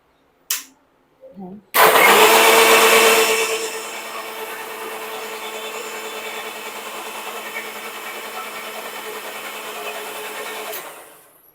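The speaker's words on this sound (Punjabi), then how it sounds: "ਇੱਕ ਵਾਰੀ ਫੇਰ ਮਿਕਸੀ ਕਰ" A kitchen mixer grinder blending jamun juice gives a couple of short clicks, then kicks in with a loud whirring roar that settles into a steady, slightly lower hum for about nine seconds before switching off.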